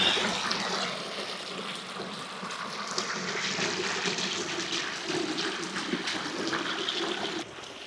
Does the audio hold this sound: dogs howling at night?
no